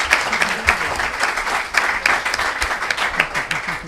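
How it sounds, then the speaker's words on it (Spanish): A room full of people at a journalism conference claps steadily for a few seconds, dense and even applause with no pause. "Así que un aplauso."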